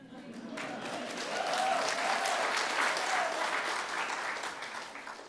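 Sustained applause from a live storytelling audience, steady and full for several seconds, swelling slightly in the middle before easing off.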